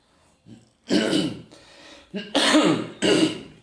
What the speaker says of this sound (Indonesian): pergantian iklim ini jadi agak batuk